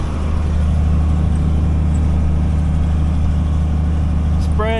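An old farm tractor spreading a DAP, potash and ammonium sulfate fertilizer mix runs with a loud, steady low engine drone and shifts gears, with a brief rising whine near the end.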